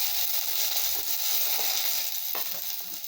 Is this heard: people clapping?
no